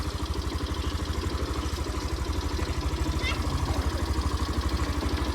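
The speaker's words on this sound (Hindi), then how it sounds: "आप खुद सुन सकते हो कि इसमें यार कितना इंजन नॉइज़ आ रहा है" A motorcycle engine idling with a suspected tappet problem, giving a fast, even mechanical ticking and clatter over a low, steady pulsing throb, close and continuous.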